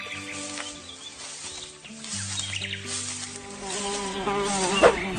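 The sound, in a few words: flies buzzing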